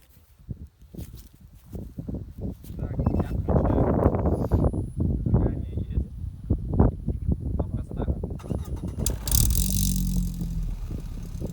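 A Lada Granta car engine, fitted with an aftermarket exhaust, cranks and catches, then idles and revs with a deep rumbling exhaust, while people talk nearby.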